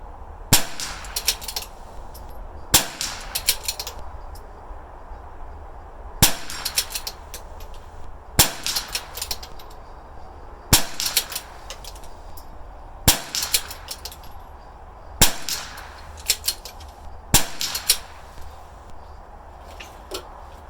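Rifle shots from a 6.5 Creedmoor fired off a bench at targets 50 yards away: eight sharp, loud reports spaced roughly every two to three seconds, with quieter clatter and ambient noise between them.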